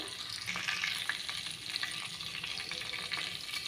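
Cumin and mustard seeds fry in hot oil for a kabuli chana tomato curry, a steady close sizzle dotted with small pops and crackles as the seeds spatter, with no talking.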